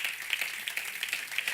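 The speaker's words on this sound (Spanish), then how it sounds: "Den un aplauso fuerte al Señor" Church congregation applauding during a sermon, a brief burst of quick, fairly faint claps blending into a continuous patter.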